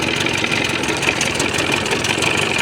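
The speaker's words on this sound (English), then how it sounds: "Put the throttle all the way down" A 1980 Johnson 25 hp outboard motor runs steadily and loudly at close range, with a constant, even drone and no speech.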